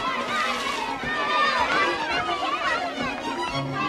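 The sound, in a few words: people shouting and chattering in a park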